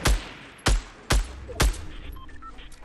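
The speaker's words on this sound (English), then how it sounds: "They're shooting." Four sharp, loud video-game gunshots ring out at steady half-second intervals, each a broadband crack with a low thump, followed by quieter game ambience and small electronic chimes.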